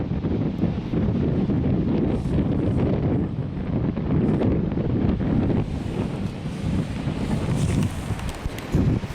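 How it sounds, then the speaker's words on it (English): Strong wind blows across a microphone on a windy coastal stretch of the NC 500 route in Scotland, a constant loud rumbling buffet with gusty swells and surf-like hiss, no talking. "So hopefully you'll hear me in this wind, pain in the neck."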